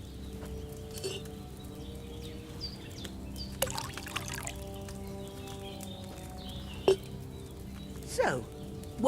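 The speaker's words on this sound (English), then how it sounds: "First, you have to pour the right base into the cauldron." Wine poured from a pitcher into a cauldron in Kingdom Come Deliverance II, a soft trickling pour under quiet ambient background, with a few faint knocks and clinks scattered through.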